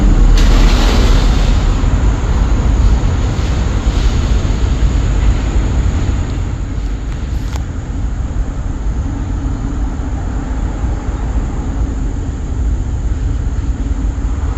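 A train rolls past at close range, a loud steady rumble holding for about fifteen seconds and easing slightly after the midpoint, with no talk over it.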